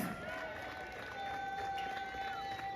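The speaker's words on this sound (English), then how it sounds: "Give him a big round of applause as he's on stage here now, everybody" Crowd at a steel orchestra's 91st anniversary day event clapping and cheering for a performer taking the stage, a steady wash of applause from a large audience that stays fairly distant and even throughout, with faint tonal music and voices mixed in.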